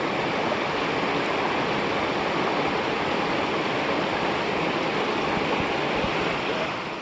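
A mountain stream fed by springs along Seneca Creek Trail makes a constant broad rush of flowing water, even and fairly close, with no voices.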